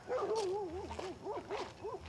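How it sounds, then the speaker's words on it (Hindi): Dogs along a rural path to a hermit's hut give a run of wavering, yelping barks and howl-like cries, moderately loud and a little distant, repeating in quick bursts. "कुत्ते भी भौंक रहे हैं।"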